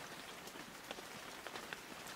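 Light rain falling outdoors, a faint steady patter of drops on surfaces with a few slightly louder taps, quiet and continuous with no voices.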